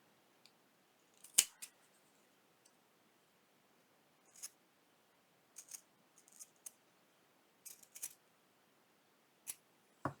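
Scissors snip through material for a pouch in a series of short, crisp cuts spread unevenly over a quiet background, with one sharper, louder snip early on and no talking.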